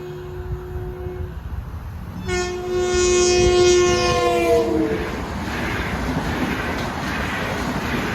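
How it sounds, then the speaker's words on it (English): An MU commuter train on the Long Island line near Deer Park and Farmingdale sounds a loud, sustained multi-tone horn at a crossing. The rumble of the passing cars continues steadily after the horn stops. "where you can see MU trains flying by railroad crossings on this railroad"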